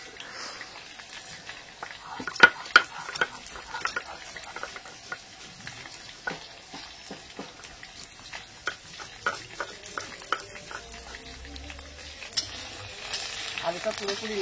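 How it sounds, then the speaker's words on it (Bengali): Potatoes fry in a pan with a soft, continuous sizzle, broken by sharp clinks and scrapes of stirring at irregular intervals, quiet and close, with some faint talk in the background. "আলুটা পুরোপুরি লাল হয়ে যতক্ষণ না ভাজা হবে এভাবে ভাজতে হবে"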